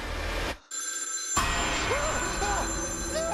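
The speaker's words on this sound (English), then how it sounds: "And then the phone began to ring again." A telephone rings inside a cabin kitchen in the woods, with a steady electronic ringing tone layered over background noise and a brief dropout early on, and voice-like sounds mixed in.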